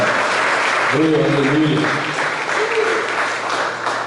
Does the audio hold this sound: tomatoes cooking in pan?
no